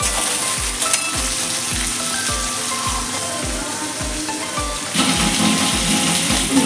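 Onions and capsicum sizzle steadily in a pan for homemade Bengali-style egg pasta, with regular scraping stir strokes about every half second and a louder burst of frying near the end, no talking.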